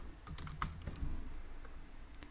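Quiet, fairly close typing on a computer keyboard, a short burst of light irregular key clicks with no talking.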